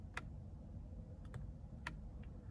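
A few sharp, dry clicks from steering-wheel buttons in a 2024 Chevy Blazer EV RS AWD, spaced irregularly and fairly close over a low cabin hum, with no talking.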